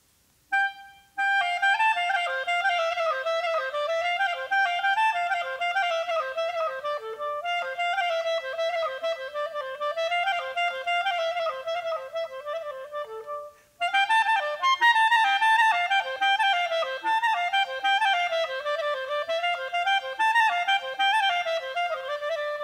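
A Bulgarian Paidushko horo tune in 5/8 plays on a single melodic instrument, clear and close, with a lilting uneven rhythm, a brief pause midway before the melody resumes, and no talking.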